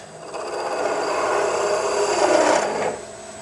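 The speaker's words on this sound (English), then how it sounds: "I can drill to any depth I wish." A drill bit held in a woodturning lathe's tailstock bores into a spinning wooden workpiece, giving a continuous rasping, whirring grind that swells toward the end and then cuts off abruptly near the close.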